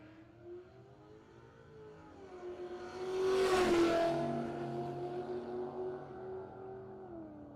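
A Camaro on a no-prep drag strip at Muncie Dragway, an engine that swells into a loud rising roar as it launches and passes, then fades back to a sustained drone, with no voices.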